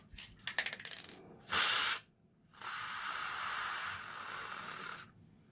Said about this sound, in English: you just spray some grease into there, let that evaporate a little bit